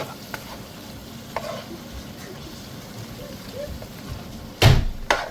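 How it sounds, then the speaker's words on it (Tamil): A spoon stirs chicken curry with chilli powder in a pan, making soft, intermittent scrapes over a low sizzle, with a sharper clatter near the end. "நல்லா தூளை போட்டு ரெண்டு மூணு நிமிஷம் பிரட்டணும்"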